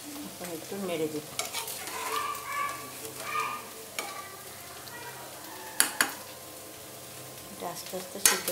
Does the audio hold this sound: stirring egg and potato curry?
yes